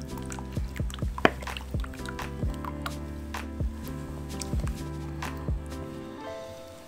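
Half a litre of strained tomatoes pours into a Dutch oven for a layered roulade roast, with wet plops, glugs and drips landing in quick irregular succession over a low steady hum.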